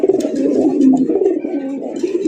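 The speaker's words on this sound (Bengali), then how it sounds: "রাজগোল্লা কবুতর সচরাচর বড় সাইজেরই হয়।" Cooing of a large Rajgolla pigeon, a local Bangladeshi breed kept at a pigeon seller's, with soft rolling low coos repeating steadily and close throughout, no talk over them.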